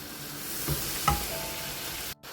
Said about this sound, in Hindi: और इसको हम थोड़ा सा मसाले को भून लेंगे ताकि कलेजी के अंदर इसका भी मसाला शामिल हो जाए।